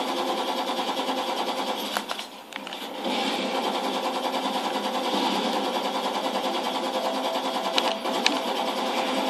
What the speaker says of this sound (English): First generator is running.